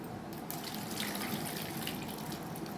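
Soaking water is poured off soaked dal into a sink, a steady broadband splashing gush that runs the whole time without pause, fairly close and with no voices over it.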